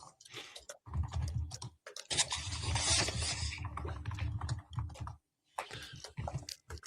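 Rapid clattering keystrokes on a computer keyboard, close and fairly quiet, in uneven bursts broken by brief pauses, with no talk over them.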